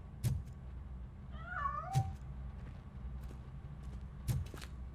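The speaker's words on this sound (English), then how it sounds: "That cat must be hiding inside." A cat meows once in a Robocop video game, a short rising and falling call over a steady low background hum, with a few soft thumps around it.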